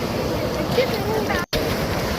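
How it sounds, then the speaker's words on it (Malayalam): Sea waves wash behind a seaside temple with water all around, a continuous broadband rush of surf and gusting wind buffeting the microphone, with a brief dropout near the middle. "ഇത് അമ്പലത്തിൻ്റെ പുറകുവശത്തുള്ള കടലാണ് ചുറ്റിലും കടൽ ആണ്"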